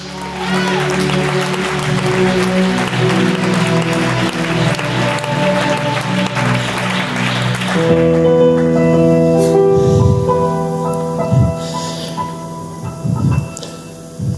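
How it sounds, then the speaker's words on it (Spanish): A church congregation claps during a sermon, steady applause over sustained organ or keyboard chords. Partway through the clapping stops and the music carries on alone with a few faint voices. "Aplaude la sangre de Jesús"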